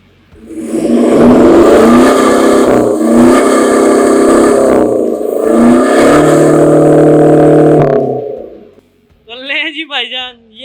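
A Pakistani truck engine starts and revs at close range, a loud, steady droning roar with rising and falling pitch that runs for about eight seconds before cutting off, followed by a brief voice.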